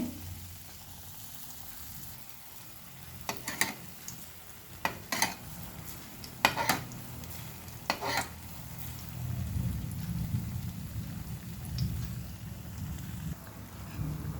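Steady low sizzle of oil frying malpuri batter, rising fuller in the second half, with a few sharp clicks and taps of utensils scattered early on.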